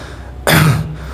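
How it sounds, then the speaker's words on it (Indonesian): A single sharp, close cough in a horror story, one short burst standing out from a quiet background. "tiba-tiba ada suara batuk."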